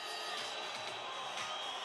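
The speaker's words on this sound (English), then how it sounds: "Well, the howling from the crowd." A handball crowd at the Norway vs Montenegro women's EHF EURO 2012 final howling, a steady roar of many voices with jeers and whoops swelling at points, heard without talk over it.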